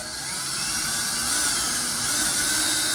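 A power drill bores a hole through a box, one steady high-pitched whine held for three seconds, loud and close with no voices.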